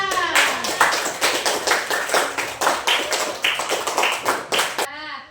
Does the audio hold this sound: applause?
yes